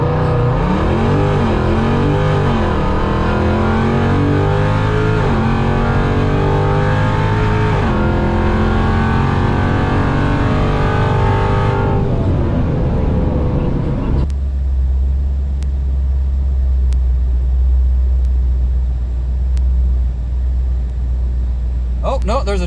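A ProCharged 5.7 Hemi drag car makes a racing run, its engine revving hard and climbing through gears in loud, close bursts before cutting to a lower steady rumble.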